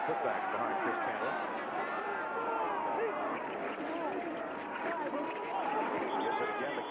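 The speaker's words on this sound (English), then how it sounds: "And you heard the ooh of the crowd as he is belted backwards by Greg Boland and Ken Norton." A large stadium crowd murmurs and swells in a sustained, distant wash of noise, with a commentator's voice running over it.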